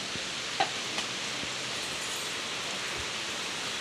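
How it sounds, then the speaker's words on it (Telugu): Heavy rain falling outside a house as a steady, broadband hiss with a few faint clicks of drops, with no talking. "వర్షం అయితే ఫుల్ పడుతుంది"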